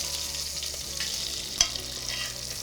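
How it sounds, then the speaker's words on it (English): Lamb balls sear in a pot, a steady close frying sizzle with a sharp clink partway through as they are turned, no voices over it. "I'm just searing off and coloring these lamb balls"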